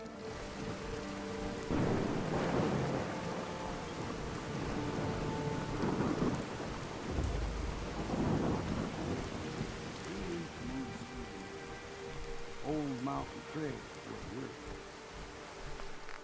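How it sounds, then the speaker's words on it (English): Rain and rolling thunder from a Fallout 4 storm on an old mountain trail, with several low rumbles swelling and fading over steady rain while a person talks intermittently. "Rain is very loud."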